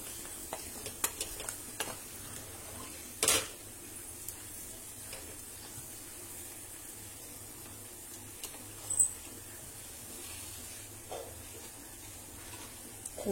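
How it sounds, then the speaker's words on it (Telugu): A spoon stirs chili powder into a spicy curry in a pan, giving faint, sparse scrapes and a couple of sharper clinks over a quiet, low sizzle. "ఒకసారి కలిపేసుకుందాం"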